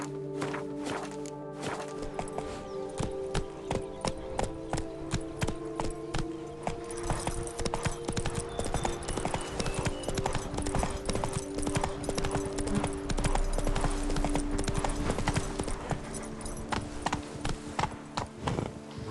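Roach the horse from The Witcher 3 clip-clopping in a quick, even hoofbeat rhythm that is close and clear, with jingling tack and game music underneath.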